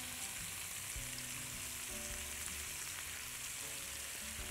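Chicken fries in butter, making an even, steady sizzle with a soft low bubbling underneath and no talking.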